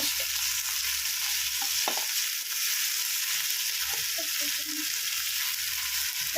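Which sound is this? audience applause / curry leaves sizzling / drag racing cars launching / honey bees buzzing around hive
curry leaves sizzling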